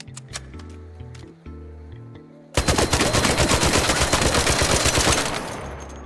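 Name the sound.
standard Rattler gun firing in Arc Raiders video game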